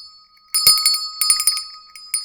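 A real handheld bell rings out clearly several times in quick succession, bright and metallic with a lingering shimmer, close by and loud against an otherwise quiet room.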